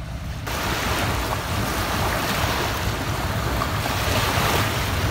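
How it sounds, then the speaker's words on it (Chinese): Waves wash steadily against a harbour shore as a fishing boat comes in, with constant wind noise buffeting the microphone and no clear engine sound standing out. "前面渔船进港"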